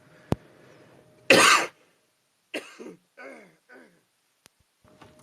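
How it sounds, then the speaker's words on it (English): A sharp, harsh cough bursts out once, followed by a few softer throat-clearing sounds and brief pauses in near silence. "Give me 1 second so I can cough"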